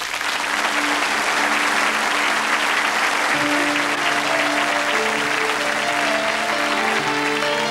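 Concert audience gives a loud, sustained ovation as a singer takes the stage, dense crowd clapping throughout while sustained musical tones begin to rise underneath partway through.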